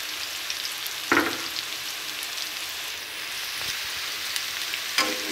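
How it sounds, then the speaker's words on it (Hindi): Diced potatoes fry with green chillies in a pan, sending up a soft, rain-like crackle while a spoon stirs them, with a few sharp knocks of the utensil against the pan, no voices. "साथ साथ आलू को हिलाते जाएं हल्का हल्का, ताकि हमारे आलू चिपके ना।"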